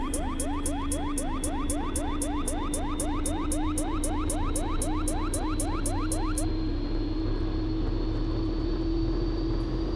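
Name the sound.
Pilatus PC12 turboprop engine starting up, from X-Plane video game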